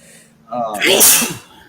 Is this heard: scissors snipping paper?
no